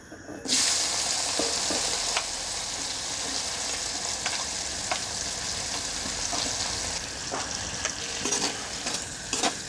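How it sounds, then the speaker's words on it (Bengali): Chopped dried fish fries in hot oil with turmeric, giving a steady, loud sizzle throughout, with scraping stirring strokes as the pieces are turned. "আমি শুটকি মাছগুলো এপিট ওপিট করে ব্রাউন কালার করে ভেজে নিচ্ছি।"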